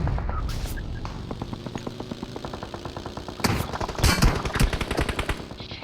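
Rapid bursts of shotgun gunfire in the video game BGMI on the Erangle map, repeated sharp blasts in a steady rhythm that grow louder and denser toward the end, with no talk over them.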